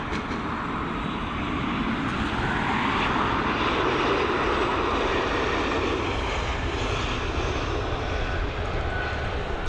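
A passenger airliner departing Dublin Airport, its jet engines roaring steadily and loudly throughout as broadband rumble with a swelling whine, heard alone with no talk.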